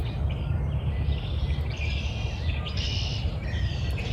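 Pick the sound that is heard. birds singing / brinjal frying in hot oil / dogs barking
birds singing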